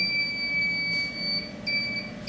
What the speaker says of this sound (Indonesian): Jadi saat menyentuh 5000 watt, buzzer langsung aktif selang 3 detik.